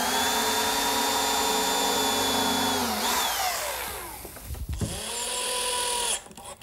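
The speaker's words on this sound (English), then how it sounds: "Now I'll just drill and countersink for the screws." A power drill runs with a steady high motor whine, spins down, then bursts on again briefly while bored into wood for countersunk screw holes on a box. It is close and loud, with no talk.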